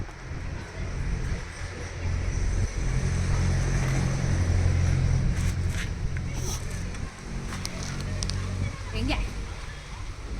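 A motorbike engine rumbles low and steady through the ride, with wind noise buffeting over it.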